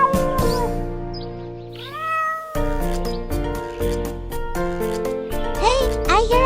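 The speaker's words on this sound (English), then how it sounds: "Hey, I hear a kitty." A kitten gives a few rising, drawn-out meows over steady, bright background music, the calls loud and close with a longer cry near the end.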